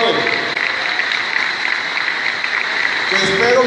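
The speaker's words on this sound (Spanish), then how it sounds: "Un fuerte aplauso para las mamás del estado de Guanajuato." Loud, dense applause from a large crowd of women at a political rally in Salvatierra, Guanajuato, a sustained roar of clapping that fills the whole stretch.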